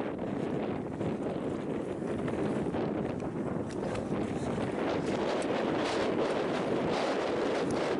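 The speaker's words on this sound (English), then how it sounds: "this wind is bad." Bad wind blowing at the San Juan River during spring trout fly fishing, a loud, constant roaring rush of wind noise across the whole clip with no talk.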